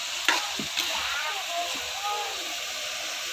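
Ingredients sauté for pancit in a pan at an outdoor farm cooking spot, giving a steady broadband sizzle with a few short scraping stirs near the start, under faint background voices.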